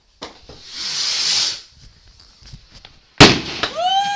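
A bonfire night firework: a hissing fizz builds and fades, then after a pause a sharp loud bang bursts out, followed by crackling and whistling tails.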